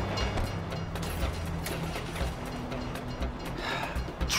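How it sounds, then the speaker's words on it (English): A train rumbles past in the Grand Theft Auto V video game, a steady, continuous mechanical roll at moderate volume with faint clatter, and no talking over it. "If you were local, you'd know the train comes by right now"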